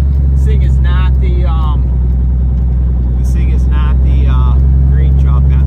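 A 1983 Kenworth K100 cabover truck with a Cummins engine drones loudly and steadily from inside the cab while driving, a heavy low rumble that continues beneath someone talking intermittently.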